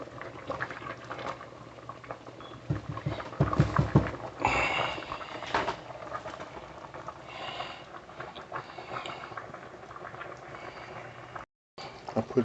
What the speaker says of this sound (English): cook your spaghetti for about 8 to 10 minutes until it's cooked